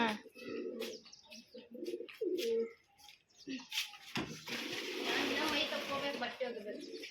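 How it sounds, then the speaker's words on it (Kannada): Pigeons coo and chirp amid nearby talking, with a burst of rustling, flapping-like noise in the second half. "ದೊಡ್ಡ ಆಗ್ಯಾವ ಪಾರಿವಾಳ"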